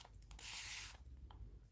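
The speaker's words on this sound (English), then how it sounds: "I'm spraying the bottom here" A spray bottle mists a peroxide mixture onto the base of a plant in one short, hissing burst, quiet and close, framed by faint handling rustles.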